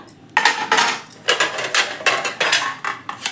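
An old metal plate being handled, giving a run of close, bright metallic clatters and scrapes in quick bursts, with no voices.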